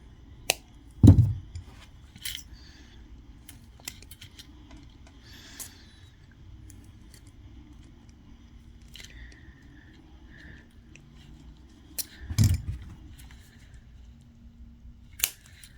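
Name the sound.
snipping copper wire with cutters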